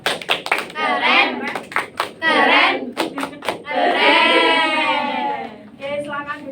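Children in a third-grade classroom clap out a rhythmic 'tepuk keren' cheer, bursts of hand claps in patterned groups mixed with their loud chanting voices, close and lively.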